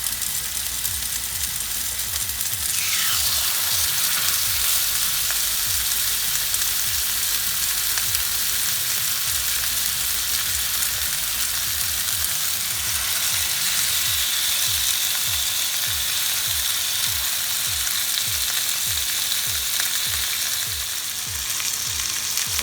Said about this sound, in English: So what I'm gonna do is just put it on my hot iron skillet.